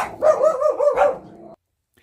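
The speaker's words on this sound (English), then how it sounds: "They bark at leaves. They bark at everything." A single dog gives a close, loud bark that breaks into a short rising yelping call lasting over a second, then stops, with silence after.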